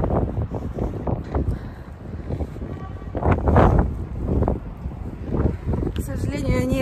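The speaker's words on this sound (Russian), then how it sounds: "здесь вам покажу уже, какой ветер меня обдувает" Strong wind on a road climbing a mountain in Croatia, gusting loudly against the microphone in rough, surging bursts, with a voice briefly audible near the end.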